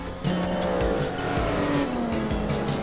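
A Nissan Skyline race car with a new exhaust in Gran Turismo 4 roars steadily at high revs, its pitch sliding down then climbing, with tire squeal mixed in, loud and close throughout.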